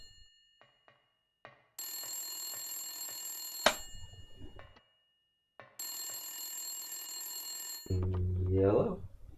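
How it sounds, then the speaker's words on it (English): A telephone rings in the video game Silent Hill: two long, loud electronic rings separated by a pause, followed by a distorted voice. "phone rings."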